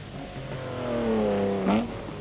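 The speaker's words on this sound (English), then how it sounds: "listen as Tony Lanfranchi in the leading Opel goes down through the box" An Opel race car at a 1984 24-hour endurance race at Snetterton, heard at moderate distance as its engine note swells and drops in pitch through successive downshifts, ending with a short sharp burst.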